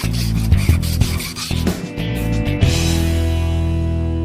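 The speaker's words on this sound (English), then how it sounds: "I will probably get some lubricant in there with that crocus cloth and then be polishing away for hours" Crocus cloth rubbing and polishing the crank journals of a Willys engine, with lubricant, as a near, steady scrubbing rasp in uneven strokes that settles into a smoother hum toward the end.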